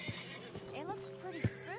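A horse neighs in a PS4 video game, a brief whinny with rising and falling harmonics and a few hoof clops, while a low voice murmurs underneath.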